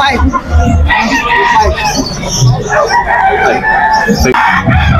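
An eight-month-old Gilmore bullstag gamecock crows loudly and close by, with several crow phrases and clucks over about five seconds while people talk in the background.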